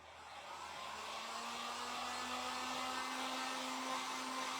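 Hair dryer blowing steadily to dry fresh paint on a thrifted sign, a continuous close, even airy whoosh with a faint motor whine throughout.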